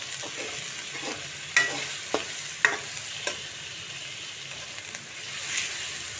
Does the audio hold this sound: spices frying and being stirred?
yes